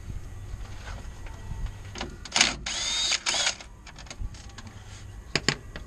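A power tool whirs in short bursts while loosening the engine fan on a car during an on-site valve cover gasket job, with a longer central run amid faint metallic workshop clatter.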